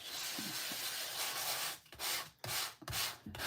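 Embossed designer series paper is sanded in short, close, dry scratchy strokes, a few seconds of quiet rubbing with brief pauses between passes.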